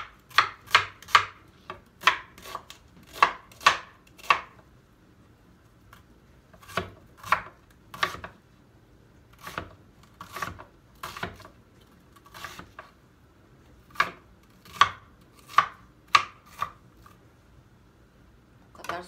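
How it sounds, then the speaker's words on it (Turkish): Half an onion being chopped with a knife on a board, steady bursts of sharp close knocks in quick runs separated by short pauses, with no talking. "Şimdi onun içine koymak için şu soğanın yarısını doğrayacağım."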